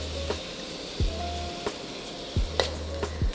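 Stock poured into a pan of Thai exploded egg with garlic over low heat, giving a steady close sizzle broken by a few sharp clinks of a utensil against the pan.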